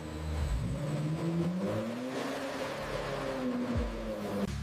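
A 2026 Ferrari 849 Testarossa hybrid V8 engine runs steadily and fairly close at the Maranello factory, its pitch rising and falling as it revs, with a brief dip near the end.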